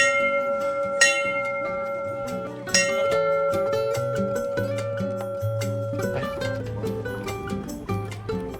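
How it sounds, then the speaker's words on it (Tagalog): The bell of happiness at Mount Moiwa in Sapporo rings out in a few bright strikes whose tones linger and overlap with music playing at a moderate distance. "we didn't miss out ringing the bell of happiness."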